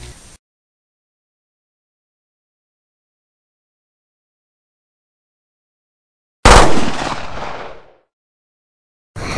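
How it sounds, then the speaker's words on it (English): A single sharp gunshot cracks out of near silence in a movie trailer and trails off in a rumbling echo over about a second and a half, loud and alone. "What happened is that Mr. Loomis shot me"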